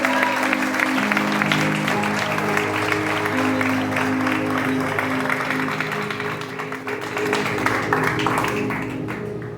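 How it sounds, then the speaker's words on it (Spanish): Loud, dense applause from a church congregation fills a worship service, a continuous roar of many hands over sustained music tones, holding strong throughout before easing slightly. "Aplauda a su Rey con fuerza."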